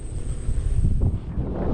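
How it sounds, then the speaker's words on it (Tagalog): Strong monsoon wind blowing across an onion field, roaring and buffeting the microphone in loud, uneven gusts with no talking heard. "Yan po, ang lakas dito po ng hangin."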